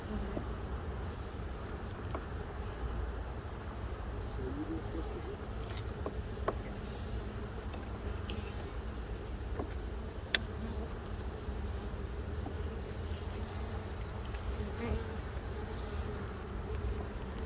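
Steady buzzing of many honeybees all around in a bee yard, a dense continuous drone with occasional individual bees zipping close by.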